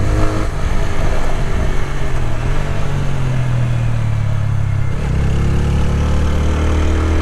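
A 2026 TVS Apache RTR 160 4V motorcycle being ridden in third gear with the throttle opened. Its engine drones loud and steady throughout, with the pitch shifting midway as the revs change.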